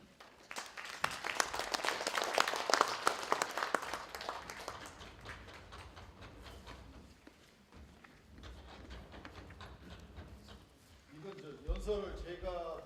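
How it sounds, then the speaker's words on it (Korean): Applause from the audience at the 120th-anniversary international academic conference on the Donghak Peasant Revolution, a dense, loud crackle of clapping that swells early and then thins and tapers, with a voice speaking near the end. "큰 박수를 부탁드립니다."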